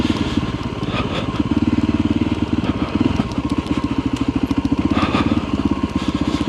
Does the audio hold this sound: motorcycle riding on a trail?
yes